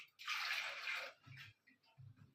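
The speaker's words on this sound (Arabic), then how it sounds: "ثانيه واحده بس اجيب كوبايه ميه" Water pours steadily into a cup for about a second, a close splashing rush, followed by a few faint clinks and handling sounds while baking an orange cake.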